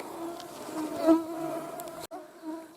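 Mosquitoes whine around the listener in a blueberry forest, a thin high buzz that rises and fades as they fly close past, fairly soft and heard alone.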